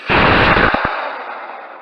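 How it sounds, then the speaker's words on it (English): A high power rocket launching on a K850 motor, starting with a sudden loud roaring blast that rumbles on, then fades with a long echoing tail outdoors. "Let's get this thing up in the air in 3, 2, 1, and fire and hold."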